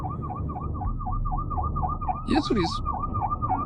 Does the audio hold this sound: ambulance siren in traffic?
yes